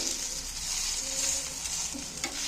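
Steady hissing sizzle of eggs and onions frying in a pan, with soft scraping as they are stirred, continuous and close.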